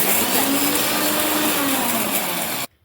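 Roasted ragi ground in a mixer grinder, a loud continuous whirring roar held steady for a few seconds before cutting off abruptly into quiet.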